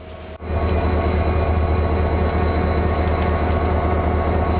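A freight train rumbles past close by in Malatya, Turkey, a loud sustained roar of wheels and wagons on the rails with a faint squeal, starting abruptly and holding steady to the end.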